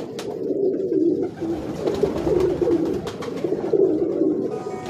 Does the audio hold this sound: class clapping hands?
no